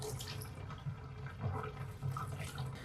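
Water squeezed and dripping from a pair of freshly washed, hand-knitted wool socks, a steady close splashing and trickling with a few louder gushes as the socks are wrung out by hand.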